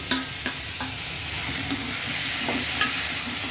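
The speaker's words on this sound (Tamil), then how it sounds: "வெங்காயம் 2 பொடியாக கட் பண்ணி வச்சுருக்கேன், அதையும் போட்டு வதக்கிக்கலாம்" Two finely chopped onions sautéing in a pan for a brinjal and drumstick thokku, with a few spoon scrapes at first and then a steady, close sizzle that builds and holds.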